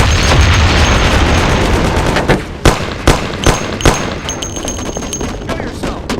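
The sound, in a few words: gunshots in video game Mafia: The City of Lost Heaven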